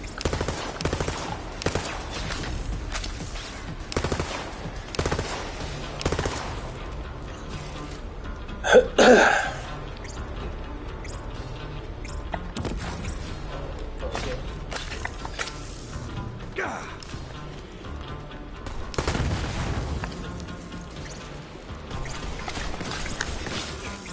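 Borderlands 3 gameplay with a charged cannon, bursts of rapid gunfire and a sharp heavy blast near the middle amid constant game noise and action.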